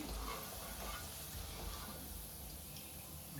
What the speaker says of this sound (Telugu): చూడండి ఈ కలర్ వచ్చేంత వరకు వేయించుకో అలాగే మిగతా వాయి కూడా వేసేసుకున్నాము